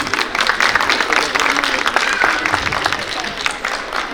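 An audience at a school annual function gives sustained, dense applause, a steady wash of many hands clapping at fairly close range.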